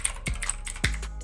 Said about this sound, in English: That's my Red Dragon keyboard. My first mechanical keyboard I ever got.